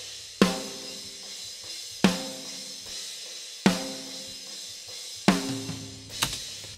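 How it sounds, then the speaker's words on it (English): An unprocessed snare drum from a metal mix is struck four times at an even, slow pace, each hit crisp and close with a short ringing tail, heard alone. "So the main snare drum track sounds like this."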